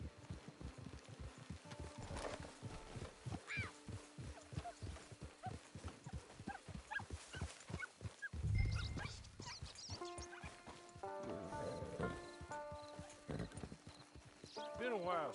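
Horse hooves clip-clop steadily near a camp, close and distinct, with a brief whinny and a few clunks, while people talk over the walking rhythm.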